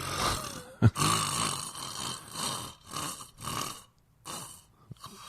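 A voice imitates snoring with a steady run of rasping, rhythmic inhale-and-exhale snores, close and moderately loud, plus one sharp snort near the start.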